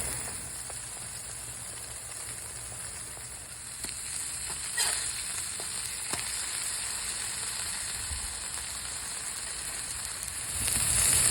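Eggs frying inside egg rings on a flat-top griddle, a steady broadband sizzle running throughout with a few soft clicks, swelling slightly louder near the end, no voices.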